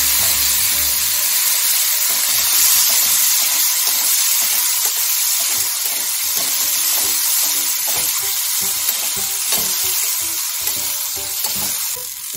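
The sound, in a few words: peanuts frying with green chili and red chili powder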